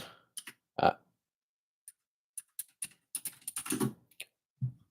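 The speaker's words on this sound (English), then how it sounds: "Let's type in compounding" Keys clatter on a computer keyboard in short, irregular bursts, with isolated single taps early and a denser flurry of quick strokes near the end, close and fairly quiet with no voice.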